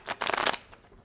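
Well-worn tarot cards shuffled by hand in a few quick riffling bursts, papery and close, with a short soft rustle trailing after; no one speaks.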